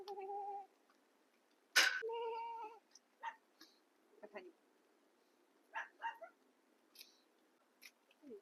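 Puppies at a farm pet park in a modern Chinese village give scattered short yips and barks, fairly faint, separated by quiet gaps.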